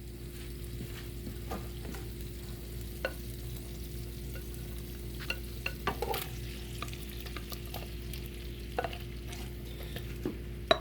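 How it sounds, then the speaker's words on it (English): Shrimp for shrimp scampi frying in a pan over medium heat, giving a quiet, steady sizzle with scattered small pops and crackles throughout, no voices. "now we're going to add in our shrimp."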